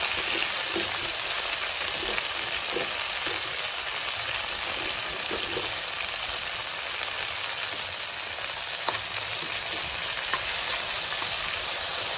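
Mint leaves fry in a hot pan with a steady, dense sizzle, close and continuous, while a few faint stirring clicks sound under it.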